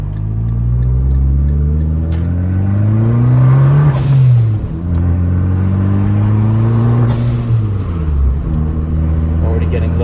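A Fiat 500 Abarth fitted with a Turbosmart blow-off valve revs up twice with rising engine pitch, each climb ending in a sharp hissing valve release, close and loud.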